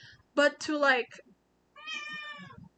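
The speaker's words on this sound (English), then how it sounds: "that was my cat" A pet cat meows close to the microphone, two drawn-out cries in quick succession followed by a longer, higher meow, with a person's voice speaking in between.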